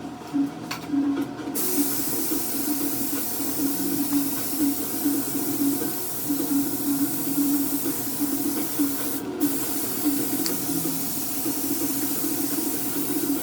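Continuous hissing spray of a paint gun coating a spray-out card for a car bumper repair, steady and close, with brief louder bursts near the start and around the middle.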